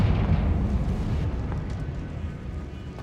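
A Confringo spell blasts a barricade in Hogwarts Legacy, a loud, low rumbling explosion that lingers with debris noise and slowly decays across the clip.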